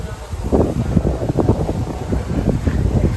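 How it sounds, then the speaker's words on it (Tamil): Gusty wind buffets the microphone in low, rumbling surges that rise and fall throughout. "காற்று வேறு அடிக்குதுங்க"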